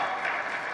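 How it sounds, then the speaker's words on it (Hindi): Conference audience applause, a brief, fairly faint and even wash of many hands clapping, heard alone with no pauses. "अपने लिए तालियां बजाएं आज"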